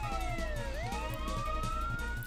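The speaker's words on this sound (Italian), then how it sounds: "Qua con la sirena della polizia di sottofondo." A police siren wails steadily with rising and falling sweeps in the background, behind a constant low rhythmic game soundtrack.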